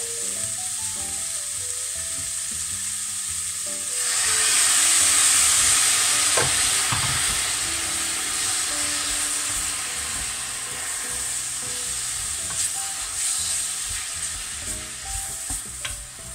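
Leftover pierrade with carrots sizzling in a pan as a little water is added, the hiss swelling loudly around four seconds, with stirring scrapes and faint music throughout.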